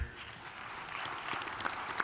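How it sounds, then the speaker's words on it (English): An audience at a drone regulation plenary session applauds the panelists, a brief soft wash of clapping from a crowd, somewhat distant and even throughout. "please give a round of applause to all the panelists up here"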